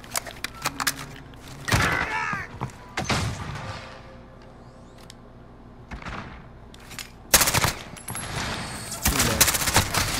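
Bursts of AS VAL rifle fire in a video game, several short volleys and single thumps spread across the stretch, loud and close with quieter gaps between, no talk.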